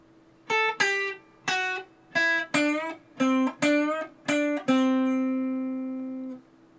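Electric guitar picks a solo lick, eight clean plucked notes in an even rhythm with pitch bends, the last note bent and left ringing until it fades, close and alone.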